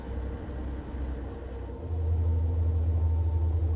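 A truck with an X15 engine in a trucking simulator drones steadily, with a low rumble that swells louder partway through as the Jake brake kicks in, continuous and close, no speech.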